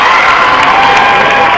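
A wrestling match crowd roars and cheers loudly and continuously, a dense wall of shouting voices with some higher children's yells.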